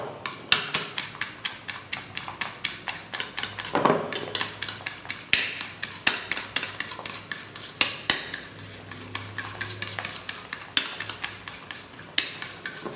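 Egg and milk powder being whisked together in a bowl, fast rhythmic clinking and tapping strokes repeating steadily, close and moderately loud.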